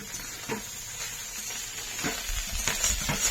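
Pond snails cooked in oil sizzle with a steady, fairly quiet frying hiss, broken by a few faint stirring clicks.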